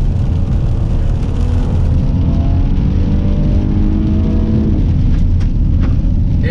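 A 2020 GMC Acadia SLT SUV accelerating hard, heard from inside the cabin as a steady engine drone whose pitch climbs smoothly for several seconds under constant road rumble, with no talking.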